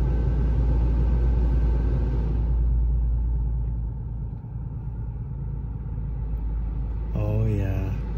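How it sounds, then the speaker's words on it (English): An Infiniti or Nissan climate control blows air conditioning at full blast, a steady broadband whoosh over a low engine rumble that eases after a couple of seconds, with a voice near the end. "Okay, climate control on. Full blast AC."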